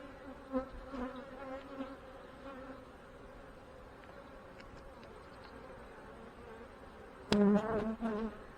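Honey bees buzz softly around a hive during an inspection, with wavering tones, swelling into a louder, closer burst of buzzing near the end.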